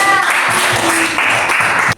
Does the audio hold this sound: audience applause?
yes